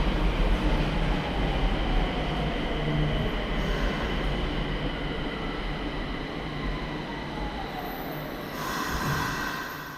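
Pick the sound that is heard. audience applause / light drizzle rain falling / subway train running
subway train running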